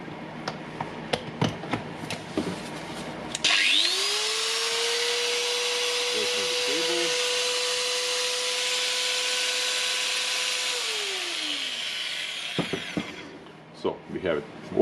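A repaired Makita 9558HNR 840 W 125 mm angle grinder spins up with a sharp rise into a loud, steady high whine, runs evenly for about nine seconds, then winds down; scattered handling clicks and knocks come before and after.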